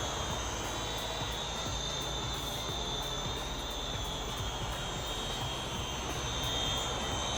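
A Uranhub UF500 drone flies over a farm, its motors giving off a steady, high-pitched whine with a faint pulsing flutter throughout, fairly quiet and with no one talking.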